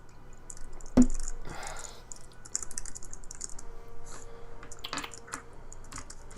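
Quick bursts of typing on a computer keyboard clatter close by in a quiet room, with a sharp knock near the start and irregular clusters of key clicks after it.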